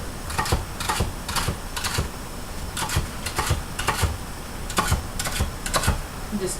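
Knife chopping collard greens diagonally on a cutting board, a series of crisp irregular thuds and cuts in quick clusters, close up with no voice.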